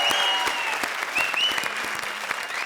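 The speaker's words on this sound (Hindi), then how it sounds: "कृष्णा के लिए जोरदार तालियां भाई।" A studio audience on the Comedy Circus stage bursts into loud, sustained applause for Krishna, close clapping steady throughout with faint tonal whistles or music threading above it.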